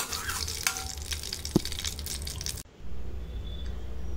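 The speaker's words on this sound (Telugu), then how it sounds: "ఒక చిన్న కడాయిని తీసుకొని దానిలోకి 1 స్పూన్ నెయ్యి వేసుకొని మనం తీసుకున్న జీడిపప్పుని మాడిపోకుండా దోరగా వేయించుకోవాలి" Cashews frying in a spoonful of ghee in a small kadai, a steady close sizzle with faint clinks, broken by a brief pause before the sizzling resumes.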